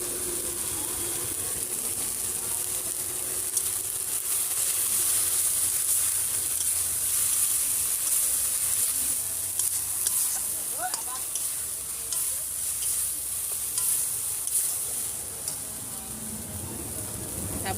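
Turmeric and chili powder fry in hot oil in a pan while being stirred, giving a steady close sizzle with scraping spatula strokes; no one speaks.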